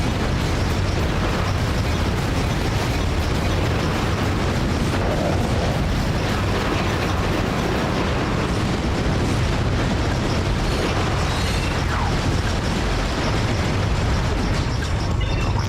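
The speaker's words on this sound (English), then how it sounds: "Oh, the explosion, the gunfire, the carnage." Dense, loud video-game combat in Ratchet: Deadlocked's Dread Zone: rapid explosions and bursts of gunfire pile into a constant roaring wall of blasts and booms, unbroken for the whole stretch with no voices.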